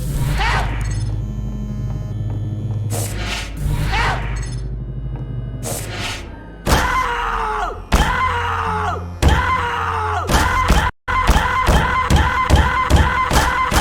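Gnome in Team Fortress 2 shrieking as it is struck, a series of loud, wavering cries repeating in quick bursts over thumping blows and steady game background noise.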